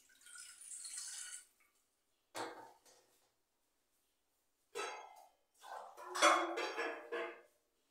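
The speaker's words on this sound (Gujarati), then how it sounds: "એક તપેલી લઈશ, એમાં પાણી ઉમેરીશ." Water is poured into a cooking pot while making Gujarati dhokli, in a few separate splashing bursts with quiet pauses between them and no talking.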